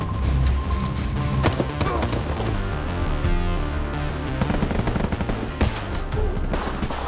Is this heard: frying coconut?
no